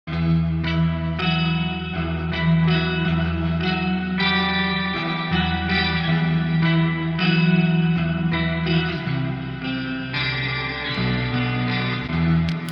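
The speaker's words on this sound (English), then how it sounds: "this is how the clean tone sounds" Clean electric guitar tone through the Neural DSP Archetype Gojira amp plugin with chorus, reverb and delay, steady chords and notes ringing out with a wide shimmering wash, close and loud with no talking.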